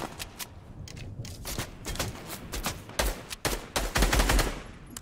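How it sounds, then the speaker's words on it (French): Gunfire in the video game Fortnite shoots at the players. Rapid bursts of close shots crack in irregular clusters, with machine-gun-like volleys building to a dense flurry toward the end. "Ça nous tire dessus."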